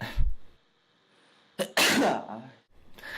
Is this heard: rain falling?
no